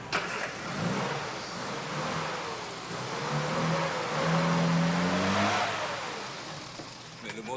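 A car engine idles and revs at a garage with a steady, moderately loud hum that swells in the middle, while people talk over it.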